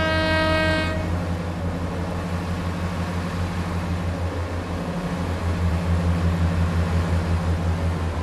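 A train horn sounds in Train Sim World 6 on the Thames Valley branch lines, a steady two-tone blast lasting about a second over the continuous low rumble and hum of the train's engine.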